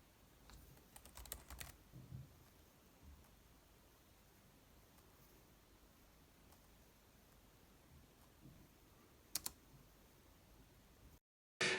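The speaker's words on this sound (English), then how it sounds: "typing away" Typing on a keyboard connected to an iPad comes through as faint, close clicks in irregular bursts, with quiet gaps and a sharp knock near the end.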